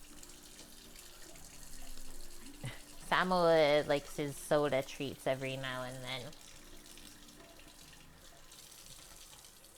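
Water runs from a kitchen tap as a steady low hiss under a spoken voice, with a background of cooking sounds.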